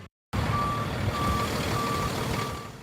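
A tow truck reverses at a multi-vehicle crash scene during a Michigan snowstorm, its backup alarm beeping steadily in evenly spaced tones over a low rumbling engine.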